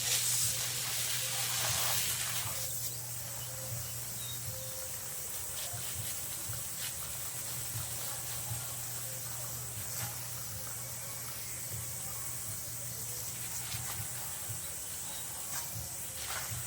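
A strong faucet pours water through aquarium mechanical filter media, producing a continuous hissing, splashing rush that holds steady throughout, louder in the first few seconds.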